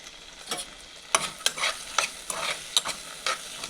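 Peas, green chili and ginger paste sizzle and fry in a pan, stirred with repeated sharp scrapes and clatters over a steady close hiss, no voices.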